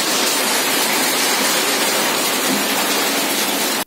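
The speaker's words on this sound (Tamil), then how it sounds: "இந்த சம்மர் டைமில் பாருங்கள், லைட்டாக மழை தூறல் போட்டுது." Light summer drizzle falls in a dense, steady patter, a loud and even hiss of rain on surfaces close by, with no voices.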